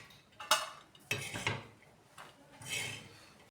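Cooked, partly mashed field beans are scraped from a pan onto a plate, with a few quiet metallic clinks and scrapes of a spoon against cookware.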